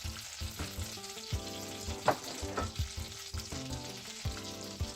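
Butter melts in a skillet over medium heat, giving off a continuous crackling sizzle with small pops and occasional scraping stirs close by.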